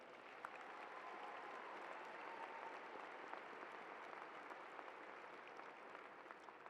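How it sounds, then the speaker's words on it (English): Audience applause at a high school commencement ceremony, steady dense clapping from a large crowd that holds evenly throughout, fairly distant and soft. "Please give these individuals a round of applause."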